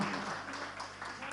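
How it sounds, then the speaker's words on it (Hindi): Brief, faint applause from a crowd at a religious sermon, a short burst of clapping for a child. "बच्चे के लिए तालियां बजाई"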